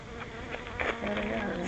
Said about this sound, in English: there's bees around me